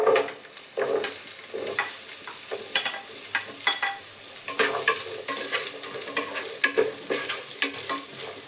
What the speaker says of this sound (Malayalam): ഇനി ഇതിലേക്ക് ചെറിയ ഉള്ളി സ്ലൈസ് ചെയ്ത് ഇട്ട് കൊടുക്കാം.